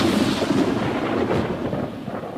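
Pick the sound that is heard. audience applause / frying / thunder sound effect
thunder sound effect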